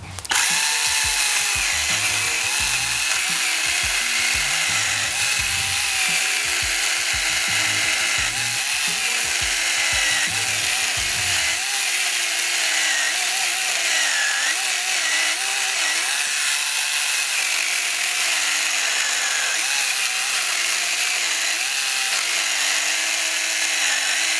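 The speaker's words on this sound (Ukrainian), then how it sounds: "поставив штілівський і хочу попробувати, чи буде різниця, чи буде відчутно, е, який краще ланцюг ріже" A cordless GRAND battery chainsaw fitted with a Stihl chain cuts through wood, giving a loud, steady high-pitched whine. The bar bites with a rougher, choppier grind for the first half, then the motor runs on smoothly through the rest.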